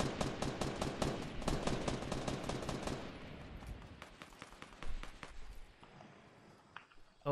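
Rapid bursts of gunfire from a Fortnite fight, dense and steady for about three seconds, then thinning into scattered, more distant shots and faint impacts, with no talking.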